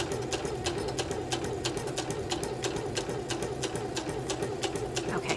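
A sewing machine stitching along a drawn line on paper, its needle tapping in a fast, steady rhythm for several seconds at moderate volume, with no voices.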